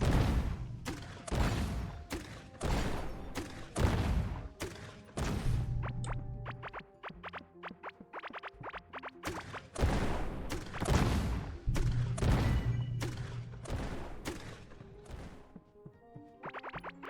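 Explosions in the video game Core Keeper burst out in quick succession, a long run of loud booming blasts with short gaps between them, some clustered into rapid rattling bursts.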